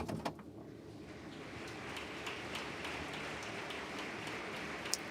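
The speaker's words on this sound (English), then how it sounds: "there's applause" Audience applause fills a crowded conference hall at a stage event, a steady, dense patter of many hands clapping that holds evenly throughout at a moderate distance.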